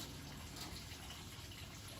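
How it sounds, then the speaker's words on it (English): Water pumped by a Tucker Fill N Go system flows in a steady, continuous rush with a broad hiss, unbroken for the full two seconds and with no talking over it. "And you see it's moving water."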